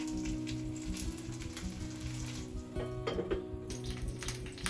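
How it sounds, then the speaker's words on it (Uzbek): Syrniki fry in a lightly oiled pan over a low gas flame, giving a steady, moderate sizzle that runs without break and stays close, with no talking. "Tayyor serniklarni ozgina yog' solingan tovada qopqog'i yopilgan holda har bir tarafini qizargunicha qovurib olamiz."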